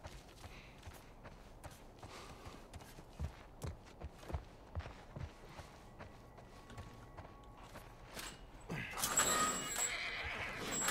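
A horse in a post-apocalyptic survival game gives soft, rhythmic hoof steps and snorting breaths at moderate distance, then a louder rushing burst of noise near the end, with no talk over it.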